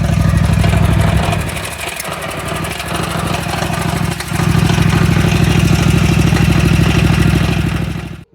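A Kawasaki engine on a Scag ride-on mower idles steadily and loudly up close, a continuous rapid chugging throb with a slight dip in level partway through before it cuts off at the very end.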